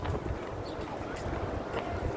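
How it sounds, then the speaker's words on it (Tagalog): Strong wind blows outdoors as a steady, close, low rumbling buffet across the microphone, with faint voices mixed in. "Lakas ng hangin!"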